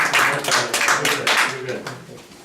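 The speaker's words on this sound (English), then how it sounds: "give him a big round of applause" A small audience at a talk on living trusts gives a brief round of applause, uneven bursts of clapping that come in a few swells before fading, with voices mixed in.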